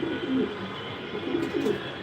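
Racing pigeons coo softly in a loft, a low, steady murmur of several birds with faint chirps rising now and then.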